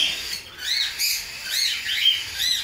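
A male budgerigar chirps and warbles in quick high-pitched bursts, close by, with brief pauses between phrases.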